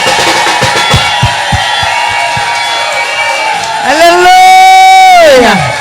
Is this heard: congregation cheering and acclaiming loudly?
yes